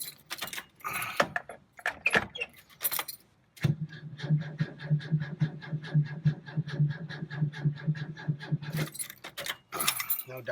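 Car keys for a 1969 VW Westfalia camper jangle in short bursts, followed by a steady rhythmic mechanical churning, then more key rattling near the end.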